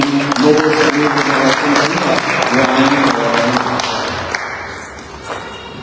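Audience applause fills a church hall at a charity dinner, a dense steady clapping with cheers and voices mixed in, loud at first and tapering off toward the end.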